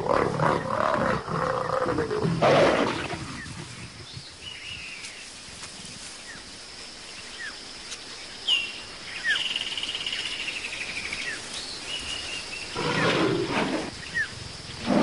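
Lions mating: deep, rough roars burst out at the start and again near the end, with quieter growling between and faint bird calls in the background, in Africa.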